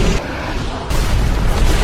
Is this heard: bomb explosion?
yes